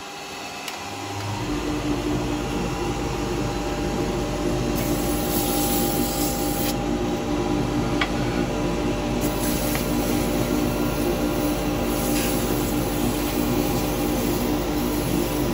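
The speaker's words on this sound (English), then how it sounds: "I'm going to do a little bit of sanding on it." A wooden baby rattle spins on a woodturning lathe while being sanded, giving a steady whirring drone with a broad hiss that starts about a second in and runs evenly to the end, close and fairly loud, with no talking.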